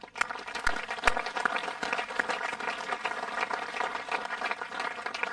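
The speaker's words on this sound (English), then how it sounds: "Let's give these troops a round of applause." A crowd applauds troops steadily at a military police brigade change of command ceremony, dense clapping with a few sharper claps standing out, sustained for several seconds.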